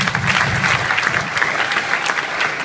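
A large arena crowd of about 10,500 people applauds loudly and continuously, a thick wash of clapping with no gaps.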